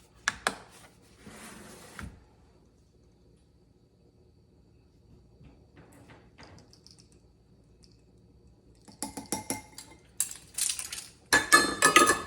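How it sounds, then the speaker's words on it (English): Spoon stirring a homemade dishwasher detergent mixture with Dawn dish soap in a bowl, brief scraping and clinking at the start, quiet stretch, then a flurry of close clattering and scraping strokes toward the end. "And then you just kind of stir it all together."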